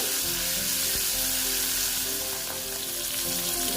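Five pieces of boal fish fry in hot oil, giving a loud, steady, continuous sizzle with faint crackles throughout and no voices.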